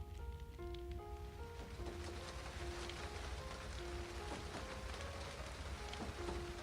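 Rain falling in the visual novel Chocolat, a constant gentle patter blended with soft melodic background music, steady and unbroken from start to finish.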